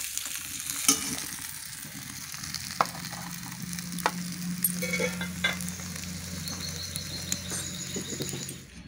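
Rui fish heads frying in hot oil in a Bengali village kitchen, a steady close sizzle with scattered sharp pops and crackles and a faint low hum underneath, no voices.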